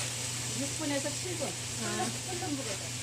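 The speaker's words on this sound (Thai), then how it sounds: "เราก็มาผัดหมูต่อ" Marinated pork stir-frying in a hot pan, a steady loud sizzle and hiss running throughout with a voice murmuring over it.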